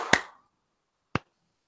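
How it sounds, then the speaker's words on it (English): Two sharp, isolated hand claps about a second apart on a countdown, close and loud, the first slightly fuller with a short ringing tail, surrounded by silence. "I'll count down 3, 2, 1, clap"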